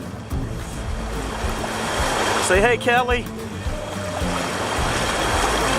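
Rapids on the Oconaluftee River after flooding, running faster than normal: a loud, continuous rush of churning water close by, with wind buffeting the microphone and a short spoken phrase in the middle.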